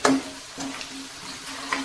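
Chilli powder and tempering spices sizzle in hot oil in a pan while crispy paper poha is made; a soft, steady frying crackle stays faint and close, with a few small bursts and no talk.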